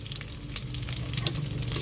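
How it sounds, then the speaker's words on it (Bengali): Onions and whole cumin fry in hot oil with a steady close sizzle, crackling and popping irregularly, and occasional stirring scrapes can be heard. "তো আমি পেঁয়াজটা এখন ভেজে নিব"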